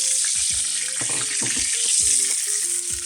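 Duck breast fries in darkening oil in a pan, giving a loud, constant close sizzle and crackle, with a few brief clatters of utensils and the pan.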